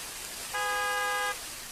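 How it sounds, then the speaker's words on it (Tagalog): A single car horn blares for under a second, loud and close, over a steady hiss like falling rain. "kinsa man sigig busina sa sakyanan?"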